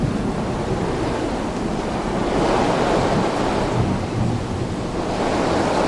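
Strong wind roars continuously during a storm, a dense broadband rushing noise that swells and eases slightly, loud and close with no voices heard.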